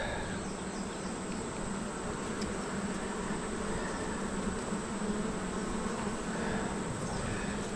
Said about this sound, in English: But I tell you what though, girls, you really are pretty bees.